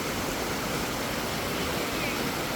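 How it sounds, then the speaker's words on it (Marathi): Muddy water rushes and gurgles steadily down a stream on a heavy-rain trek to Muktagiri, filling the scene with a continuous broadband roar that never lets up. "खूप खळखळतं पाणी आहे इथे."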